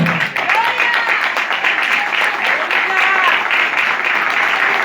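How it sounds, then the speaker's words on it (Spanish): A church congregation applauds during a service, dense steady clapping filling the whole stretch with voices mixed in and faint melodic tones threading through. "Un aplauso al Señor."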